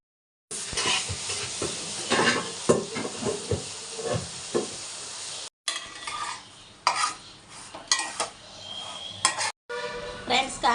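Sliced bitter gourd (kakarakaya) sizzles in a hot pan while a metal spoon repeatedly scrapes and stirs, with clinks and crackling hiss in bursts broken by brief pauses.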